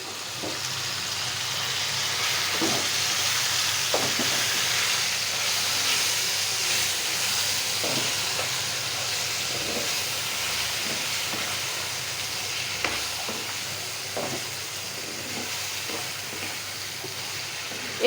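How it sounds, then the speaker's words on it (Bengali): Taro leaves tempered in hot oil with onion, garlic and dried chili give off a steady, broad frying sizzle and hiss throughout, with scattered small pops and stirring clicks, close and continuous with no talk. "এখন এটা বাগার দিব। পেঁয়াজ আর রসুন আর শুকনো মরিচ দিয়ে"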